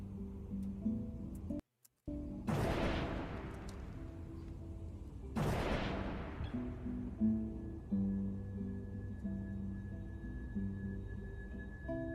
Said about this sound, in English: Damn, gunshots? That's crazy.